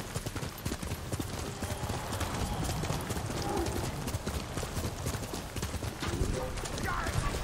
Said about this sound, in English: I'm gonna get my horse though